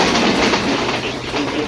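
A Bangladeshi express train in a PC train simulator game, running from Rajshahi to Abdulpur, rumbles loudly along the rails with a steady rolling roar and clickety-clack wheel noise.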